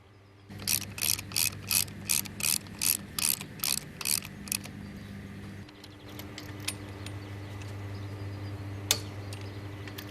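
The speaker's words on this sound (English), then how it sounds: "Nine 16 by 65 mm screws from the accessories pack are screwed into the holes where the connection plates were fastened and tightened with a torque of 170 Newton meters." A torque wrench ratchet tightens M16 by 65 mm screws on a Siemens 3AP1FG 245 kV circuit breaker, giving about ten rhythmic bursts of sharp clicking. A low steady hum continues alone afterwards.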